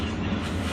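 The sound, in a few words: Coromandel Express passenger train running on the tracks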